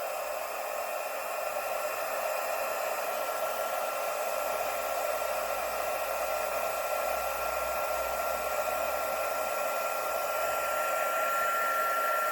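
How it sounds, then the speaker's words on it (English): Handheld heat tool melting gilded embossing paste and powder until it turns shiny, giving a steady, loud fan-driven whoosh that holds evenly for about twelve seconds with no talking. "Get your heat tool and we'll heat it up."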